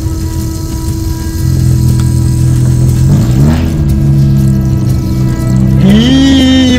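A car with an opened exhaust idles, then revs in short rising bursts, with a sharp climb near the end, loud and close, steady engine drone between revs.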